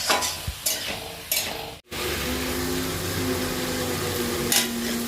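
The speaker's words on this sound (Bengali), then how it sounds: "এবার এগুলো সবকটাকে একটু হালকা করে ভেজে নেবে, যাতে সবজির ক্রাঞ্চিনেসটা চলে না যায়।" Capsicum, bell pepper and onion sizzle in a hot pan while a utensil scrapes and stirs, with a few sharp clinks and a brief cut in the sound before the frying continues.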